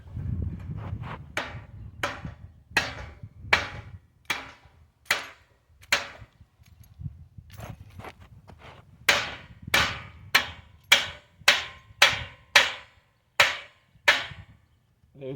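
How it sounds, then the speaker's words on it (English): A sledgehammer drives stakes into the ground to anchor a homemade portable BBQ camp stove, giving a long series of sharp, evenly spaced thuds, some quieter, then a louder steady run of blows near the end. "So I take the sledgehammer and I hammer in the steaks."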